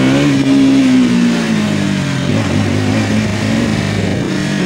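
Motorcycle engine revving hard for a wheelie on a road: a loud, close mid-pitched roar that rises and then sags as the revs fall, steady throughout with no talk.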